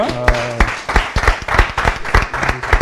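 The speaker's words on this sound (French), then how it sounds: "on peut quand même aussi applaudir" Scattered clapping at a Congolese cultural award ceremony as a trophy is handed over, uneven hand claps from a modest crowd mixed with a short voice and some background tones at the start.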